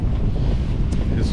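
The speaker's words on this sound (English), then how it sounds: "the wind has picked up" Strong wind blows steadily over an open bay on Lake Ontario, roaring across the microphone aboard a cruising boat, with faint water and engine rumble beneath and no other sounds breaking through.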